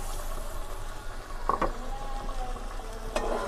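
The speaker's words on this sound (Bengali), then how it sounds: "এখন চিংড়ি মাছের সাথে মশলাটা আমি একটু ভালো করে কষাবো।" Shrimp sautéing with spice paste in a pan for a raw jackfruit curry, a soft low sizzle with a few scraping stirs of a spoon, quiet and close, with no talking.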